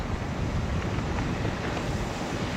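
Rough, choppy waves on an inland lake near a dam, heard as a steady, loud wash of water mixed with heavy wind buffeting the microphone, continuous throughout with no voices.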